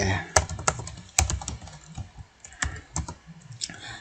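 Fingers tap on a computer keyboard at close range in an irregular run of clicks and sharper keystrokes, with someone speaking briefly between them.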